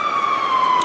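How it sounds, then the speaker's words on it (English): A fire engine passes with its siren on, a loud, steady, high wail that holds for a short stretch and drowns out the rest of the street. "Right, now we've got an ambulance or something come screaming. Oh, it's a fire engine, in fact."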